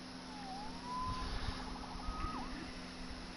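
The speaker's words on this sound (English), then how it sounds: "Saved by the siren." A police siren in a Spider-Man video game wails in two short rising and falling sweeps, faint and distant over a low rumbling city background.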